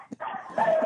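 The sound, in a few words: dogs barking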